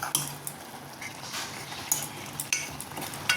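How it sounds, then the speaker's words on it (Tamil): Kuppaimeni greens being stirred into a pot of sambar, a ladle scraping and clinking against the metal in irregular bursts over a low background hiss, fairly quiet and close, with no voices. "போட்டு நல்லா கிண்டி விடணும்"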